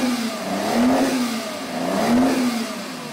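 A Ferrari 250 GTO's engine revs in two rising-and-falling surges, loud and close with a smooth, high-pitched mechanical wail and no talking.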